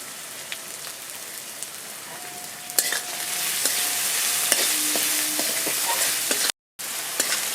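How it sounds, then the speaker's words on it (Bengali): Chopped onion frying in a pan makes a constant close hiss with occasional small pops and stirring clicks, broken by a brief silence near the end. "আমার পেঁয়াজটা ভাজা হচ্ছে"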